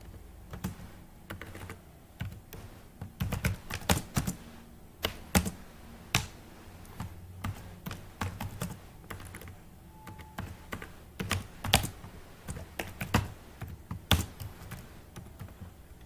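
Code for a JavaScript arrays lesson is typed on a computer keyboard, close up: rapid bursts of crisp key clicks with short pauses between runs, alone and without talking.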